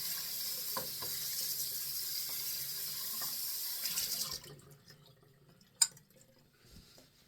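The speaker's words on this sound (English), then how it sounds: "we'll rinse out the bowl right quick" A running tap rinses out a shaving bowl, a steady close splash of water for about four seconds, then the flow stops and a few faint drips and a soft knock follow.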